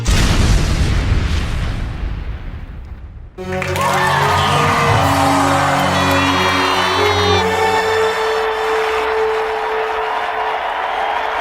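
A loud, rumbling explosion bursts in an animated show, roaring for about three seconds before giving way to a sustained, swelling musical tone that carries on to the end.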